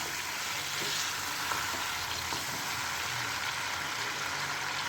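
Chicken sizzling and frying in a pan while garlic powder is stirred in, a steady close hiss with faint scraping of the spoon and no talk.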